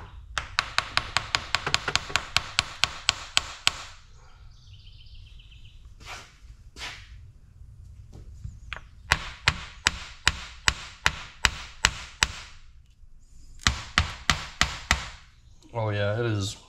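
Bursts of quick, sharp hammer blows ring out in rapid series, separated by brief pauses, ending with a short rumble, during a power steering gear repair on a 1980 Peterbilt 359 truck.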